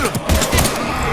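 Gunfire in Mass Effect 3 during a firefight with Husks, quick rapid shots in a short noisy burst amid battle sounds, with shouted voices in the mix.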